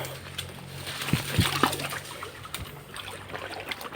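Water flows and splashes continuously nearby, with a few sharper splatters and a low hum underneath.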